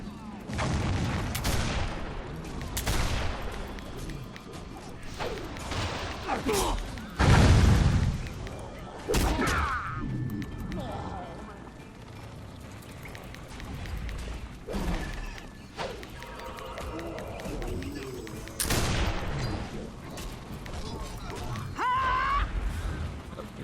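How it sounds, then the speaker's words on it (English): Warhammer Online's Thanquol's Stand scenario produces heavy doom-blast booms and crashing impacts with gunfire-like bursts, repeating across a long stretch of battle noise while someone talks over it. "It's the Logren's Forge kind of doom blast sound."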